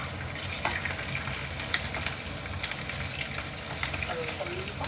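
Green chillies hiss and crackle in hot oil with cumin and moong dal in a pan, a steady close sizzle broken by small pops and stirring clatter.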